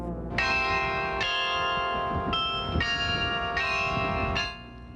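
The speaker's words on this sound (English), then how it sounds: "The glockenspiel atop the Bavarian Inn welcomes visitors every hour with his friendly chimes" The hourly glockenspiel atop the Bavarian Inn in Frankenmuth rings out in a sequence of about six bright, sustained bell strikes, each note ringing into the next before fading out at the end.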